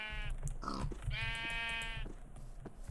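Sheep in the Minecraft video game bleat twice in quick succession, clear wavering cries heard close up over a low background hum.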